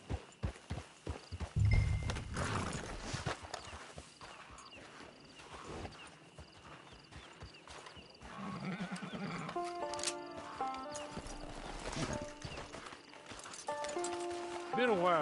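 Horse whinnies and clip-clopping hooves in a PlayStation 4 open-world video game, with music and game sounds around them; loud neighs come early, then hooves walk along under a spoken voice.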